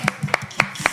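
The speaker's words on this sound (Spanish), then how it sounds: "El aplauso para todos ellos" A few sharp hand claps, four in about a second, evenly spaced and close, at a comedy show with no voices over them.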